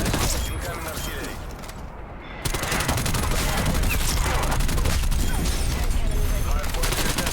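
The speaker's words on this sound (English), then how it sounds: "Artillery targeting detected." An incoming artillery strike in Call of Duty Cold War, a dense barrage of blasts and rumbling fire that swells in loudness partway through, with voices talking over the combat.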